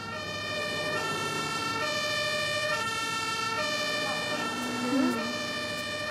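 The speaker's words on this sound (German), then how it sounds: "Und deshalb müsst ihr ganz besonders aufpassen, wenn ihr eine Sirene hört." A fire engine siren wails in repeated two-tone cycles at moderate distance, steady over about six seconds, with traffic noise beneath and a brief voice or effect near the end.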